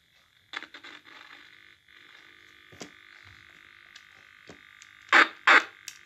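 A Vectrex video game console sounds its firing effect: a steady electronic buzzing tone with short sputtering bursts, ending in two loud blasts close together.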